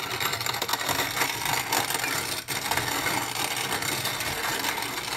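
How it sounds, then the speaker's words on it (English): A hand-cranked grain mill grinding potatoes into flour gives a continuous gritty, rasping grind, steady and close, with no one talking. "you just dump the what you're gonna grind in there, and just turn this handle."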